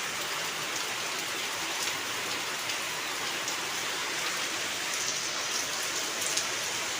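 Heavy rain falls steadily, a dense and even wash of drops hitting surfaces that stays constant and loud throughout, with no voices.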